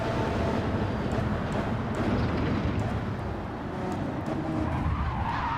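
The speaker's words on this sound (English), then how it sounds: "Listen to the grunt of the Audi" A racing Audi in Gran Turismo 7 gives a continuous gruff engine roar, dense and steady from start to finish. Tire skid and road noise blend into the dull, grunting drone.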